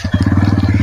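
A motorcycle engine runs close by, loud and steady, with a fast, even chugging pulse like an idle, continuing through the short moment.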